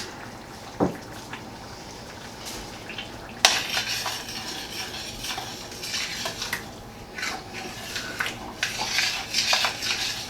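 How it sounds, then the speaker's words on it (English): A spoon stirs marinara sauce in a pot, making a sharp clink followed by scraping and sloshing against the pot that builds toward the end, close by and without speech. "We're going to give that a stir."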